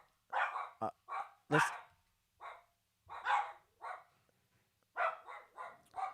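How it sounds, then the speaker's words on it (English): A dog named Boba barks indoors in repeated short bursts, fairly close, with brief gaps between barks and no talk over them. "Boba, stop barking."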